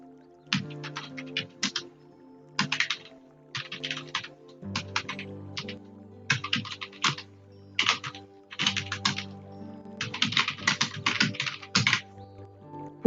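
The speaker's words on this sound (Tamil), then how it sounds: "சம் டெக்ஸ்ட் டைப் பண்றேன்" Fingers typing text into a word processor on a computer keyboard, close and crisp, in uneven bursts of rapid clicks separated by short pauses.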